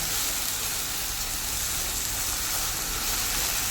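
Plantain pieces frying in a pan give a steady, dense sizzle that holds without a break, loud and close, with no voices.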